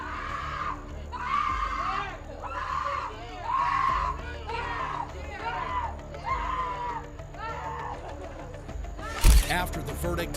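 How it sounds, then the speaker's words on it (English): Family members scream and wail in a courtroom after a verdict. Anguished cries rise and fall again and again, loud and echoing, and a sharp thump lands near the end. "the two defendants collapsed as screams of their family members echoed through the courtroom"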